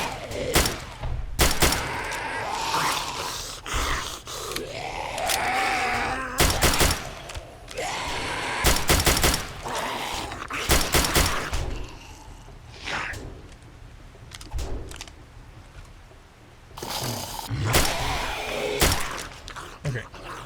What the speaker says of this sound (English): Trying to get center of mass shots here.